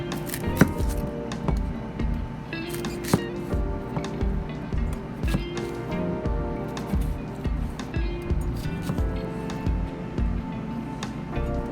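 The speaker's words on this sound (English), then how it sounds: "Cut the onion a little thin." Knife slicing an onion thinly on a cutting board while preparing nikujaga, a Japanese meat and potato stew: a steady run of close, crisp chopping taps with faint kitchen background and no talk.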